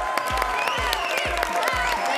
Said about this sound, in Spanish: Y con otro tremendo aplauso recibimos en nuestras cocinas a Jane Morgan de Happy Jane.